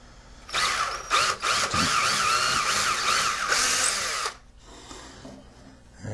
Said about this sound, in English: I'm going to go with a little bit bigger drill bit and drill these through these pilot holes